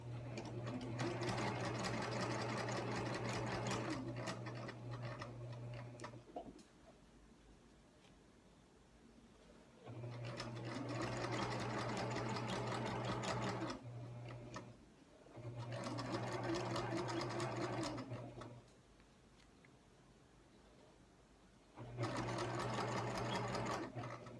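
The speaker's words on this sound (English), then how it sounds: "Just sew along that first creased edge and keep a nice steady hand and go slow." Sewing machine stitching along the creased edge of a tote bag, four long steady runs of close humming whir separated by quiet pauses with faint fabric handling.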